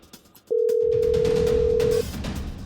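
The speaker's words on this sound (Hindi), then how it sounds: "इतना कहकर रोहन ने अपनी जेब से मोबाइल निकाला और आयशा का नंबर डायल किया" A steady electronic phone tone sounds loud and alone for about a second and a half after a short click, a dialling effect for a mobile phone call in a Hindi business audio story.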